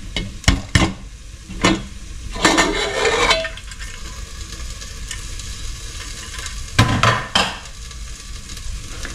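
A home pressure cooker of cooked dhal with methi seeds is opened: several sharp clanks of the metal lid, a hiss of escaping steam and stirring scrapes in a quiet kitchen, with no talk.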